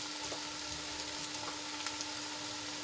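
Spices sautéing in gravy in a pan, a steady close sizzle with faint stirring scrapes, continuous and unbroken, no voices.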